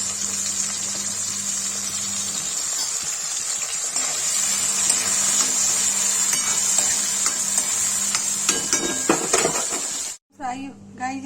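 Mushrooms fry in oil in a pan with a steady, close sizzle and occasional stirring scrapes, ending abruptly near the end, with a voice briefly present.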